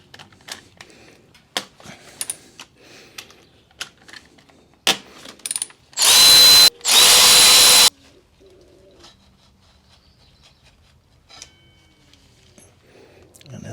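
A socket tool works the 10mm 12-point brake caliper bolts on a Harley-Davidson Softail Sport Glide. Two loud, harsh bursts come close together, amid scattered faint clicks and handling noises.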